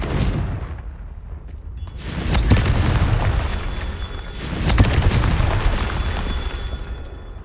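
Fire-spell explosions from the Confringo spell in Hogwarts Legacy send out heavy booming blasts, first around the two-second mark and again near the five-second mark. A rumbling, crackling wash of debris follows each blast and hangs on between them.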